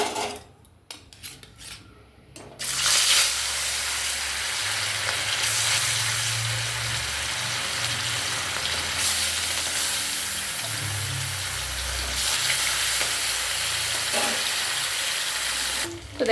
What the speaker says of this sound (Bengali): আমরা এবার মাছটা ভালো করে ভেজে নেবো।